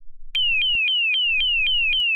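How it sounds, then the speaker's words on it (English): Electronic car alarm wailing loudly in a repeating falling siren tone, about eight cycles in steady rhythm, close and alone after a brief rumble. "my alarm got off after someone shot my car"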